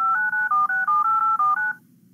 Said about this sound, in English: I dialed 911.